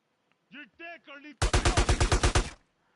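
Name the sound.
machine gun fire in GTA San Andreas Definitive Edition video game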